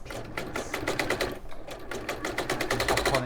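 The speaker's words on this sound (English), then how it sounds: "I think that machine needs a new needle, doesn't it? Definitely, it's doing banging." A sewing machine in need of a new needle runs in fast rapid bursts, its needle banging in a dense rhythmic clatter, close and loud with a short pause partway through.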